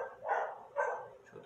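Two short barks from a dog at moderate distance, a gap between them, then a softer trailing yelp, with no other sounds around them.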